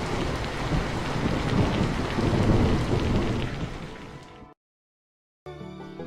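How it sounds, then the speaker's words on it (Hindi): Heavy rain pours and thunder rumbles loudly and steadily for several seconds as a storytelling sound effect, then cuts to a brief silence before a short burst of music begins. "बहुत तेज बारिश की वजह से नदी का पुल टूट जाता है।"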